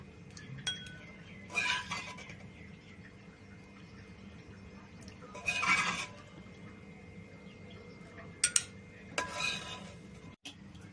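Tamarind sauce made from raw tamarind is moved from a pan into a bowl, heard as a few scattered scraping clinks of a metal spoon against cookware, quiet and close, with several brief bursts separated by low background hum.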